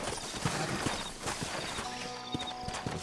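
A black stallion's hooves clip-clop at a steady walking pace in the Western video game Red Dead Redemption, faint and rhythmic against a background hiss.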